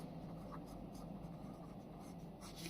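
Faint strokes of writing on a board as fractions are written out during a maths lesson. Light, scratchy taps and swipes recur irregularly over a steady room hiss at close range, with no talk.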